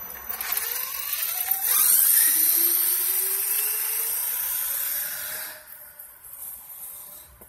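A brushless Traxxas E-Maxx RC car makes a high-throttle speed run, its whine rising sharply in pitch as it accelerates, loud and close. It then fades as the car pulls away.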